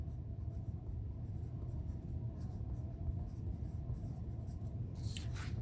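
A marker or pencil writes a name on a large sheet of white paper, giving a steady, close scratching and rubbing that runs throughout with no talking.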